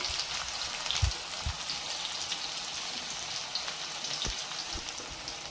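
Mustard seeds and onion frying in a couple of spoons of hot oil for a tempering, a steady crackling sizzle with a few sharp pops of seeds bursting, close and continuous throughout.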